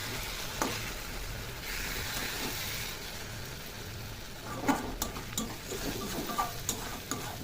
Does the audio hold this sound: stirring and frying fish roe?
yes